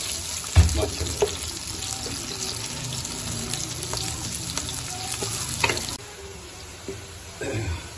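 Onions sizzle and fry in ghee in a pan while browning for biryani, a steady crackling hiss broken by stirring clatter and a brief burst of running tap water.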